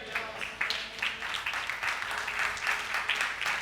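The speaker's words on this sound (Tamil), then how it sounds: "கைத்தட்டுங்க பார்க்கலாம்." Church congregation clapping hands during a worship service, a fairly steady, rhythmic patter of many hands, moderately distant, with a faint tone beneath.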